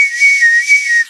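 A single sustained whistled note from one person, fairly loud and close, holding a steady pitch with slight wavering for about a second before stopping abruptly.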